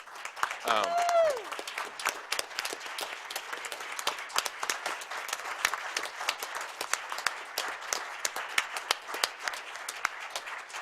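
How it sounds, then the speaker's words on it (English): A crowd in a school board business meeting breaks into sustained applause for a student robotics team, steady dense clapping lasting about ten seconds, opening with a brief voice over the start. "we should give them a round of applause because they're doing great work"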